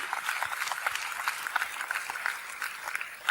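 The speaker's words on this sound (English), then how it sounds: "Can we have a big round of applause for these wonderful children?" Moderate audience applause at a students' felicitation ceremony, a steady patter of many hands clapping at middling distance, not very loud.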